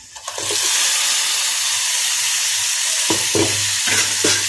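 Tomato paste hits sautéed onions in a hot pan for soya chunk curry, bursting into a loud hissing sizzle, followed by several close scraping stirs.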